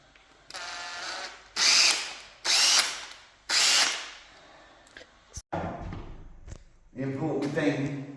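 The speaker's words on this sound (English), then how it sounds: "I've got a very nice drill bit here" A power drill fitted with a drill bit bores into a door in several short, whining bursts that start and stop repeatedly, followed by a lower grinding run, with a person talking in between.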